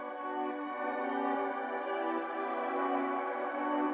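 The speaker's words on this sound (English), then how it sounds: "So I'm just using this crystal choir preset over here." A crystal choir preset pad in an FL Studio dark beat holds a steady, sustained airy chord, soft and even, shimmering with a slight breathy texture for several seconds, with no voice over it.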